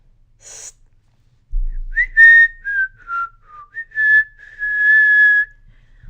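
A person whistles through their fingers: a short high chirp, then several clear pitched whistles that rise and fall, ending in a longer sustained tone, close and alone with no talk.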